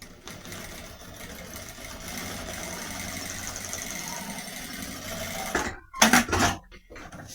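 A sewing machine stitches clear crystal plastic onto a toothbrush case, running in a steady, even whir for several seconds before stopping with a few short, louder bursts at the end.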